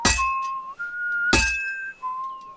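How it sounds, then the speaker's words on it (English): A game character whistles a simple tune while smithing in Kingdom Come Deliverance 2, with bright metallic clinks of hammer on metal striking twice and punctuating the clear, sustained whistled notes. "I'm just impressed I was able to keep him whistling for so long"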